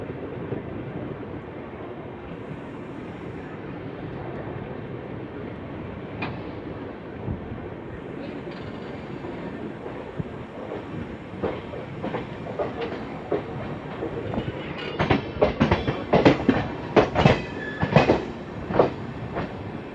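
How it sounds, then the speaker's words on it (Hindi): The Lucknow Mail passenger train approaches on the rails, a low rumble building steadily before rhythmic clickety-clack wheel beats grow loud and close toward the end. "सामने से आती हुई लखनऊ मेल।"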